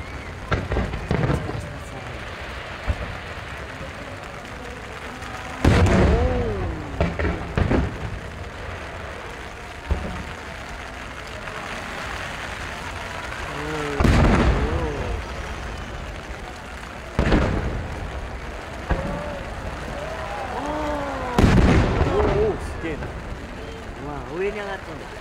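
Fireworks bursting over Lake Biwa at a large summer fireworks festival in the rain, heavy booms arriving every few seconds, some in quick clusters, with crackling between them and spectators chatting nearby.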